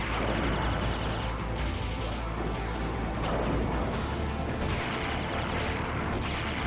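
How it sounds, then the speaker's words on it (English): Homing missiles firing in the Ikaruga shooter game, a dense, continuous barrage of blasts and rumbling explosions filling the whole stretch at steady loudness, with no voices. "There's homing missiles."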